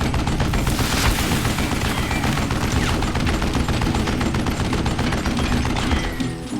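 Gunfire from the Western shooter Call of Juarez: Gunslinger crackles in dense, rapid volleys of shots, loud and nearly continuous for several seconds.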